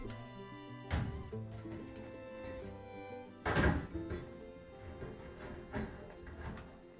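A replacement heating element slides into a Maytag electric dryer cabinet with a few dull thunks and metallic scrapes, one louder knock midway, close and moderately loud.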